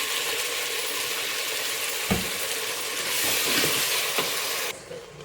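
Onions and ground masala paste fry steadily in a pan for morning breakfast pulao, a broad sizzle with a few scraping stir strokes near the middle before the hiss drops off at the end.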